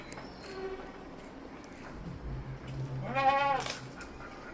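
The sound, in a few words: goat bleating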